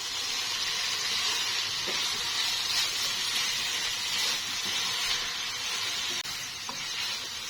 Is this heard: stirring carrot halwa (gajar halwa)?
yes